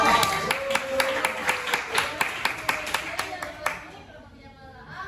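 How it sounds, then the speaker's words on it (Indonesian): A class claps for group two at an Islamic education teaching session: a short burst of rhythmic hand clapping from a small group, fading out near the end, with voices faintly underneath. "tepuk tangan untuk kelompok dua"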